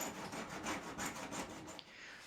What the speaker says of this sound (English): Next, I tried a paint scraper